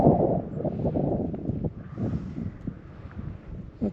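Wind gusts buffet the microphone beside an old windmill at a Goodsprings, Nevada service station, a steady low rumble rising and falling in waves with no voices.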